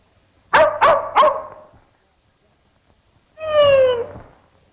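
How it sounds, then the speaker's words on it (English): A dog nearby gives three quick, sharp barks, falls silent for a moment, then lets out one longer, drawn-out whining bark that slides downward. No one speaks. "I wonder what dog that is over there."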